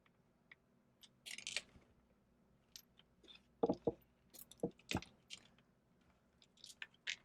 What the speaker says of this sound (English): get your vinegar, pour your vinegar on it, and then you're going to smush it.